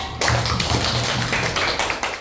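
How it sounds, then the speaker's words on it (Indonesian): Children in a classroom clap their hands together in a burst of quick, fairly loud, close claps that fade out after about two seconds. "Tepuk tangan untuk anak-anak."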